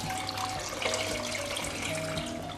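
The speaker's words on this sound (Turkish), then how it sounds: "şerbet için şekeri ve suyu tencereye bırakıyoruz" Steady water pours and splashes into a pot with sugar for syrup, a continuous rushing stream at close range for a couple of seconds.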